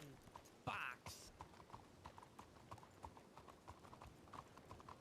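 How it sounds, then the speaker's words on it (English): Horse hooves clip-clopping in a roleplay video game, a steady run of soft footfalls under game ambience, with one brief louder burst of sound near the start. "I hear my horse, I don't see it."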